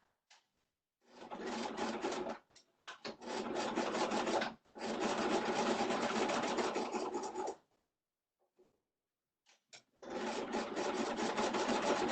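A sewing machine stitches a fabric face mask in bursts of loud, fast mechanical whirring. Short pauses and brief gaps separate the runs. No one speaks.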